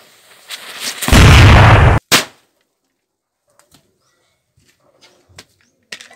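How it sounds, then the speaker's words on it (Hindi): A Mirchi bomb firecracker bursts with one loud, near blast, followed instantly by a second sharp crack, then near silence with a few faint distant pops and bird calls. "इसका नाम है मिर्ची बम। और आज हम इसका टेस्टिंग करेंगे कि ये कैसा फटता है और कैसा आवाज़ आता है"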